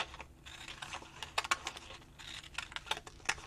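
Scissors snip through paper while cutting out shaped Christmas gift tags, giving sharp, irregular crisp clicks and rustles close by.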